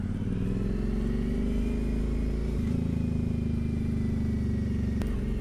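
An Aprilia Dorsoduro 900 motorcycle engine pulls away, a steady, close, loud low drone that shifts pitch partway through as it accelerates, with no talking.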